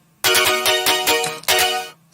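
Remixed cover played through convolution reverb: dense, bright chords in rhythmic stabs with low thumps underneath, a short gap partway through, then a reverberant tail fading out at the end.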